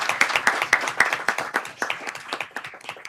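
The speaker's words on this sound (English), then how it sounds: "Give her a round of applause." A modest audience at a school board meeting claps in a quick, uneven patter of distinct hand claps that fades over about three seconds.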